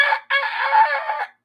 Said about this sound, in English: Is that a rooster? Is that a rooster?